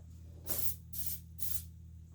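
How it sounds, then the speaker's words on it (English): Three short bursts of spray adhesive hiss close by from an aerosol can, evenly spaced, each lasting about a quarter second over a faint background hum. "I'm going to spray this off camera"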